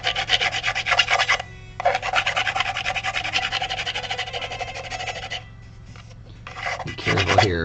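A resin model kit part of Ranni from Elden Ring being filed to remove burrs, heard close up as rapid repeated rasping strokes in bursts, with short pauses between passes.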